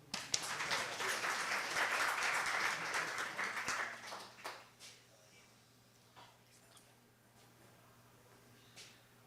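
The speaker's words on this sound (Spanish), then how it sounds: "El público lo recibe con un aplauso." An audience at a university literary lecture applauds to welcome the professors, a strong burst of clapping for about four seconds that tapers off into a quiet room with a few stray claps.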